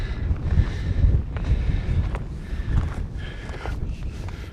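Strong wind gusts across a high saddle overlooking a small valley, roaring and buffeting the microphone in uneven rumbling surges, with faint scuffs in the background.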